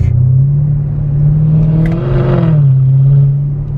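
A V8 car engine idles with a deep, hoarse rumble at close range, holding a steady low drone that swells slightly in the middle without strong revving, then settles back to an even growl.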